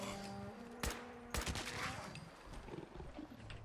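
Two sharp, loud sniper rifle shots in Fallout 4 crack out about half a second apart, each leaving a brief echoing tail. A quieter mix of game sounds continues underneath.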